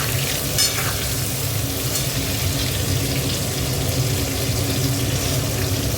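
Tomato fries with salt in a pan, a loud, dense, continuous sizzle that holds steady throughout with no pauses and no voices.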